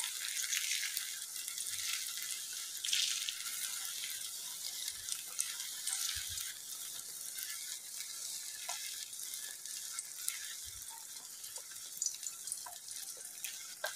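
Egg bhurji sizzling hard in a pan over high heat, a dense continuous crackle and hiss with a few soft stirring knocks underneath, steady throughout.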